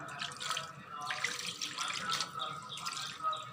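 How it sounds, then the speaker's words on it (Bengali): Water pours into marinated beef with a continuous trickling, splashing flow close by, quiet and uninterrupted for several seconds. "তারপর একটু পানি দিয়ে দিলাম পরিমাণ মতো।"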